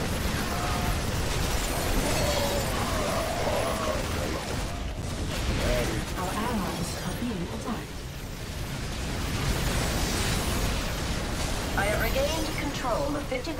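Bomb blast from a Terran Tychus co-op mission in StarCraft 2, one burst among dense, continuous game noise of gunfire, unit effects and music, loud throughout with no clear pause.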